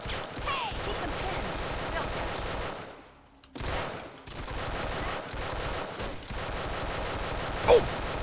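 A volley of gunfire against a raider base turret in Fallout 3, a steady rapid rattle of shots that drops out briefly near the middle, then resumes at a similar level.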